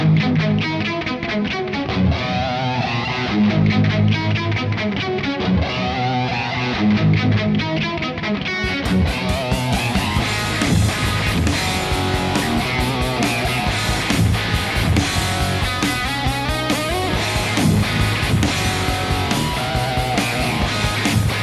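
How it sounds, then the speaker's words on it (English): Distorted electric guitar plays a riff with heavy reverb and echoing delay, the band kicking in fuller and louder partway through. "when we're playing here, got a lot of reverb there and some delay"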